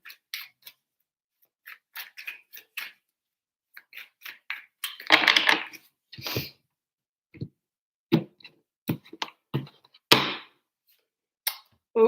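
Tarot cards being shuffled by hand, a run of sharp, irregular riffling snaps and flicks, close and fairly quiet, grouped in short bursts with pauses between and no talking.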